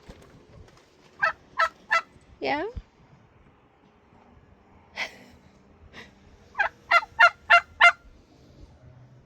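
Turkeys in a new turkey run gobble in several rapid, rattling bursts, close by and loud, separated by short pauses, with a brief spoken word and quiet breathing between calls.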